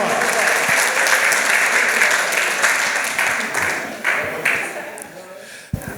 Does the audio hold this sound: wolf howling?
no